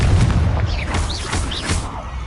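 A Confringo spell explosion from Hogwarts Legacy booms loudly with deep rumbling low-end bursts, overlaid by bright magical whooshes and chirping effects in a steady barrage of game combat sound.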